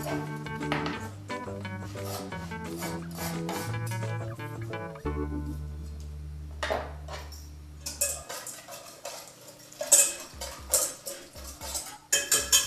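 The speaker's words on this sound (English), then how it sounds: "Stir in the parsley." A spoon stirring chopped parsley into a vinaigrette in a bowl: soft clinks and scraping taps grow more frequent toward the end, after background music fades, with no talking.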